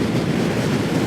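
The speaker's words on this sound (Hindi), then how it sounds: "फुल स्पीड से हवा चल रही है।" Strong wind roars along a mountain road near Murree, buffeting the microphone with a steady, loud, dense rush and no voices.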